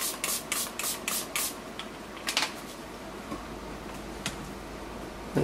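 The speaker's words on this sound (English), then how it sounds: "I'm going to spray that with some alcohol." Alcohol sprayed from a spray bottle onto a fine mesh sieve in a kitchen: a quick series of about five sharp hissing spritzes, then a few more isolated bursts amid quiet room noise.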